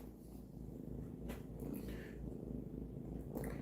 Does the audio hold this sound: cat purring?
yes